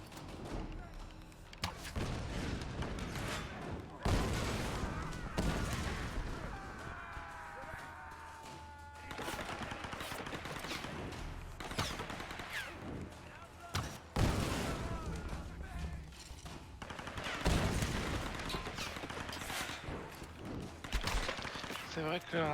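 Gunfire in the Tomb Raider video game, a series of sharp bursts and thuds spread across the clip among game music and effects, with someone talking in French over much of it.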